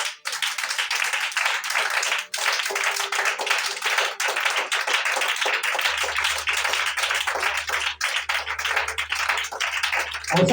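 A church congregation applauds together in sustained, loud clapping that fills the whole stretch, with a low hum entering partway through and no talk over it.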